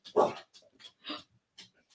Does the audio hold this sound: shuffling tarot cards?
no